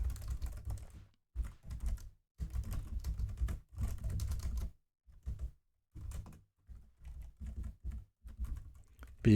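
Code being typed on a computer keyboard, bursts of quick clicking keystrokes separated by short pauses, close and fairly quiet.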